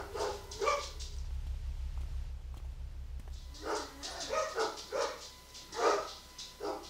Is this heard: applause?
no